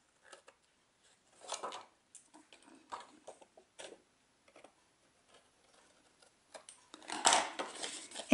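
Snips trimming excess ribbon from a bow on a handmade Christmas wreath card, heard as a few sparse, faint close clicks and snaps with quiet gaps, ending in a louder rustling handling burst.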